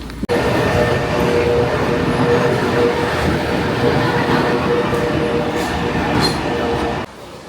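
A New York subway train pulls into Penn Station, its steady roar and rumbling wheels filling the platform with faint squeals above, the noise cutting off abruptly near the end.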